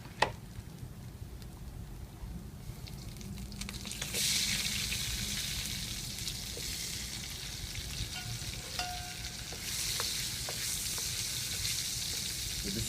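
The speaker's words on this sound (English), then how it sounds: "throw in the asafoetida and start cooking some of the vegetables" Vegetables dropped into hot oil with asafoetida in a small wok for vegan khichdi, the hiss swelling into a loud bright sizzle, with a few faint utensil taps and a quieter stretch before a second surge.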